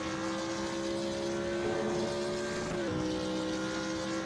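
Race car engine tone at Monza in a racing video game, a steady droning whine that climbs slowly in pitch, then drops briefly at a gear change before holding on, loud and continuous with no talking.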